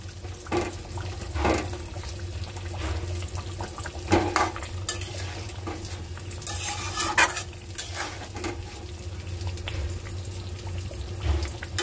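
Thick curry being sautéed in a pan, a spatula scraping and knocking the metal in an uneven rhythm over a constant sizzle, close and fairly loud.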